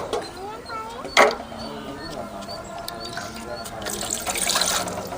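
Water splashing and sloshing as bitter gourd is washed by hand for curry, with a louder splash early on and a running, trickling wash later.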